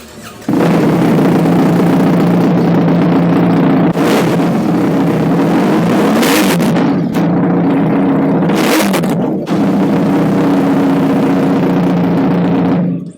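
BMW XM engine fires up after a short quiet moment and settles into a loud, steady, deep rumble that holds for several seconds, with brief bursts of throttle blipping on top.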